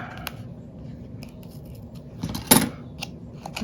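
Scissors snip a strip from a sheet of material, a few separate close cuts with one sharper, louder snip near the middle.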